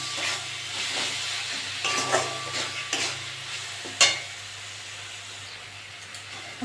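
Masala for potol chingri, a pointed gourd and prawn curry, stirred and fried in a pan, with a steady sizzle and scattered scraping strokes at close range and no talk.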